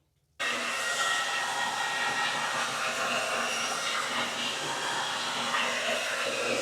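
A handheld hair dryer switches on abruptly and roars continuously at close range while drying hair on a half wig, a loud, even rush of blown air with no talking over it.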